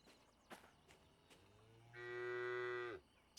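A cow in the train game Derail Valley lets out a single drawn-out moo lasting about a second, clear and fairly close, following a few faint clicks and with no talking.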